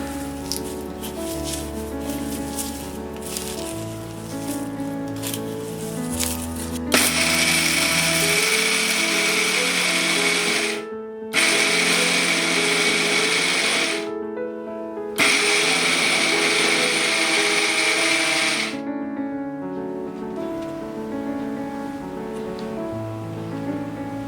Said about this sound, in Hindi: हमने इसे कोर्सली ड्राई ग्राइंड कर लिया है